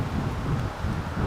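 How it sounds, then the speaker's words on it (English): Steady wind buffeting a microphone outdoors, a low rumbling roar that fills the whole moment without letting up. "This is really windy."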